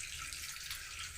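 Tap water runs steadily into a container in a home kitchen, giving a continuous close hiss with no voices over it.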